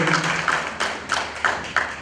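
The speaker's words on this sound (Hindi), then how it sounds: "जोरदार तालियां एक बार हमारे माननीय श्री संतोष गंगवार जी के लिए।" Scattered hand claps from an audience at a ceremony honouring Atal Bihari Vajpayee, a few distinct taps in a steady rhythm over a murmuring room, brief and fairly close.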